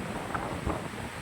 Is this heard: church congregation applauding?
no